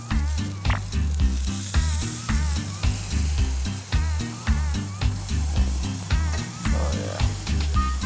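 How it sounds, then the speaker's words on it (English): A steak, a ribeye trimmed into a New York strip, sizzles in a hot pan just after being flipped, a steady fry hiss running beneath louder rhythmic background music. "let's go ahead and flip our steak real quick"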